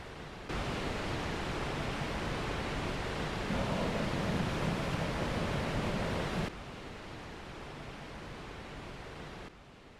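Roaring waterfall in Iceland, a murky grey wall of water pouring over grey rocks, gives a loud, steady broadband rush that runs unbroken throughout.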